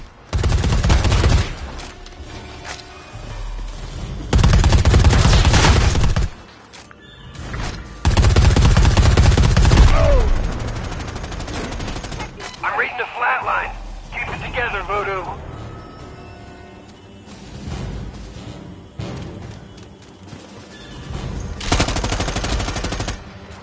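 A fire team's automatic weapons roar in Predator: Hunting Grounds, arriving as several loud, sustained volleys separated by quieter gaps, with speech and radio chatter in between.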